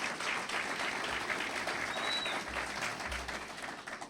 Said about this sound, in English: if we can give her a round of applause for the great work she's done